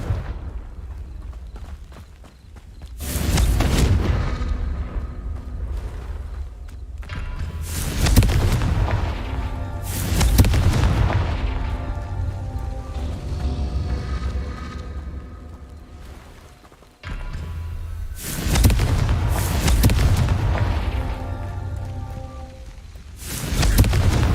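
Confringo fire spell explosions in the Hogwarts Legacy video game: a series of heavy, booming blasts a few seconds apart, each with a rumbling decay and crackling debris, loud and up close.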